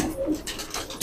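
Deobandi pigeons give a few low, soft coos close by, with fainter rustling and background noise around them.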